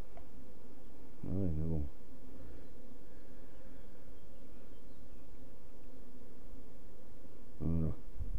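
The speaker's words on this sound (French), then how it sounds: "Trop d'abeilles, hein, trop d'abeilles." Bees buzz in a steady low drone throughout, close by and fairly quiet, while someone speaks briefly in French at two points over the hum.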